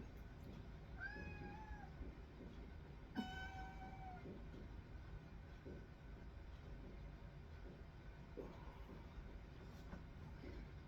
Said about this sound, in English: Callie the Killer Calico Cat is down here. She wants to go outside.